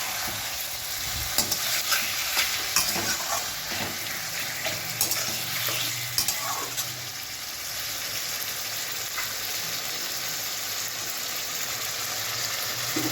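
Marinated mutton curry sautéing under a lid in a pan: a soft, steady sizzle with a few scattered stirring clinks early on, faint and even throughout, no voices.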